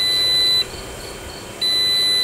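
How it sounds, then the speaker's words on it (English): A WaveBox portable microwave oven signals that its popcorn is done with a steady, high electronic beep, pausing for a second before a second tone, loud and close with no talk. "Our WaveBox just beeped, telling us that our popcorn is done."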